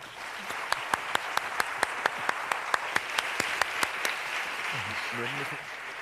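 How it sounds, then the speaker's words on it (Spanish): Applause rises from a theatre audience, a continuous bed of clapping overlaid by a sharp, evenly spaced run of single loud claps close by, with faint voices murmuring near the end. "un aplauso para"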